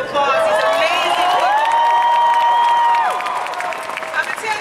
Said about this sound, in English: they really need a bigger applause than what you just gave them